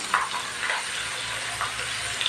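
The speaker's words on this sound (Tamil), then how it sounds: "இப்போ இந்த ஸ்டேஜில் நம்ம பொடி பொடியாக அரைச்ச இந்த கீரை போட்டுடலாம்" Finely ground spinach greens fry in a pan, giving a continuous close sizzling hiss with occasional stirring scrapes and no talking.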